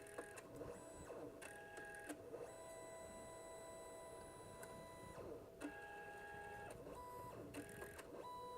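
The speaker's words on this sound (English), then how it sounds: "It's got like a little cooling fan that runs while it's printing too." HP Sprocket Studio Plus photo printer at work, faint and close, its cooling fan running steadily while the print motor whirs in repeated tonal mechanical passes separated by brief clicks and pauses.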